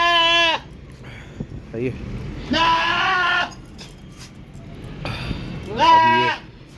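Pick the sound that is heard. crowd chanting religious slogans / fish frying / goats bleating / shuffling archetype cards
goats bleating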